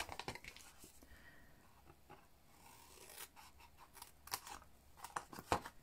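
Scissors snip through designer series paper while a large hinged gift box is being made, giving quiet, scattered cuts with a few sharper snips near the end.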